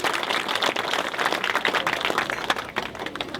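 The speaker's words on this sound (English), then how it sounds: "big round of applause for the town crier, Michael Britton" An outdoor crowd at a Herne Bay Amy Johnson Day event claps for the town crier, a dense, continuous wash of applause from many hands, fairly close and steady.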